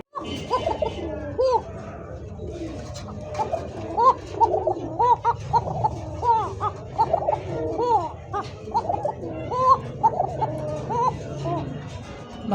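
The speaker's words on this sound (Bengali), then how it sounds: "নরমাদি দুইটা কবুতরই ডাকে মাশাআল্লাহ, ডাকটা শুনে দিছে ভাই" A pair of Koka pigeons, male and female, coo together close by, their repeated throaty calls rolling over and over through a steady, busy background.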